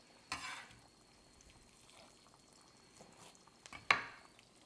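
Ingredients for a quick pasta, with leafy greens, hazelnuts and chili, frying in a pan, a faint low sizzle broken by two sharper bursts of spattering or stirring near the start and end.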